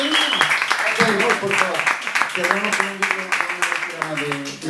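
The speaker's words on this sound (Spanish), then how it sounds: "un gran aplauso para nuestro invitado" An audience applauds a guest at a writers' and creators' event, with steady clapping throughout, heard alongside voices.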